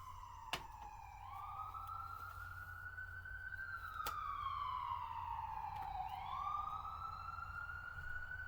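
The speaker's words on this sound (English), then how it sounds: "So there's ambulances going up and down the highway all day long, 24/7." An ambulance siren on a highway wails up and down in long sweeping cycles, fairly faint and somewhat distant over a low steady background hum, with a few sharp clicks and no voices.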